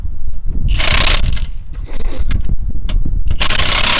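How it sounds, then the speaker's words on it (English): Nuts and lock washers being tightened on a hitch-mounted four-bike rack on a Jeep XJ, loud close metallic ratcheting and clanking in uneven bursts, with wrench clicks and rattles, no talking. "then you just get the nuts, the nut washers, and the washer lock washer all on there, and just evenly tighten"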